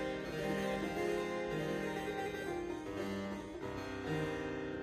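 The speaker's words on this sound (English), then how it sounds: "If I play the bottom manual," A double-manual French-style harpsichord by Dowd, played on its bottom manual with a course of 8-foot strings, gives a dense, bright plucked texture of sustained notes and chords, steady and close with no voices.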